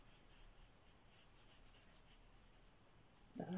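Arteza Twimarkers dual-tip markers scratch faintly across paper in a steady run of soft strokes, quiet and close, followed by a brief louder bump at the very end.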